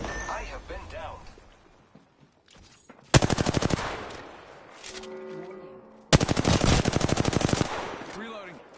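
Two long, loud bursts of rapid machine gun fire in the video game System Override, each lasting about three seconds and separated by a pause, with a player's voice talking quietly before and between them.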